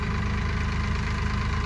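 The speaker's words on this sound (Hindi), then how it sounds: "ट्रैक्टर चला रहा है" A tractor engine runs steadily nearby, giving an even, rapid chugging knock over a low rumble, with no voices.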